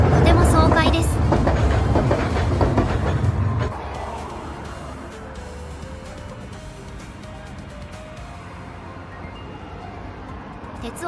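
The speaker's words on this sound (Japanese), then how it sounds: "道路の真ん中を走る路面電車の姿がとても爽快です。" A streetcar runs along the middle of a road in Hiroshima, Japan, a loud rumbling pass in the first few seconds that drops to a quieter steady street and tram hum.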